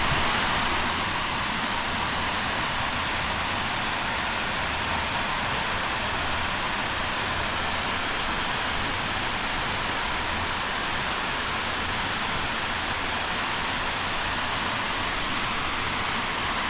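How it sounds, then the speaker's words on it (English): A creek flowing beside a Jeep trail gives a steady broadband rush that stays even and fairly loud throughout, with no distinct splashes or voices. "You're running right next to the creek the whole time when you're not crossing the creek."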